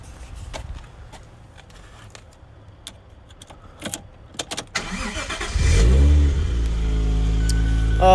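A 1995 Toyota Mark 2 Tourer V with a factory manual and a custom Japanese-made exhaust fires up with a sharp start and settles into a loud, steady rumbling idle close by, after a few quieter clinks and handling noises.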